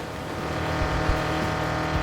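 A car engine drones steadily after a wipeout in a video game race, a dense continuous roar with faint thumps and rattles, close and fairly loud, with no talking.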